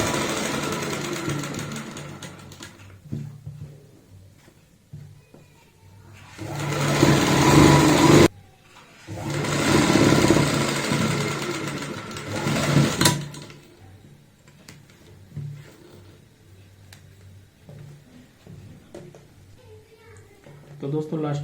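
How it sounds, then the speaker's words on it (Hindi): A sewing machine stitching the side seam of a kurta runs in a couple of loud whirring bursts of several seconds each, with quieter stretches and a voice talking around them. "अब हम इसमें दूसरी साइड में भी सिलाई लगा लेंगे खींचते हुए ही ऐसे।"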